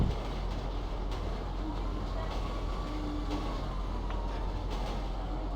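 A train rolls along the tracks in GTA 5, a continuous heavy rumbling and rattling that stays loud and steady throughout, with no break.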